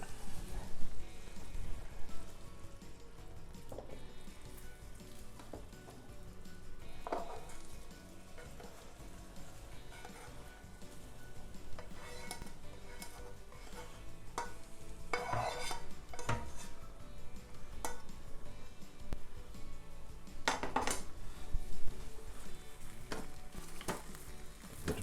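Minced beef sizzles and frys in a pan for a cottage pie, with steady crackle and scattered scrapes and clinks of a utensil stirring it, a few louder clatters near the end; no talking.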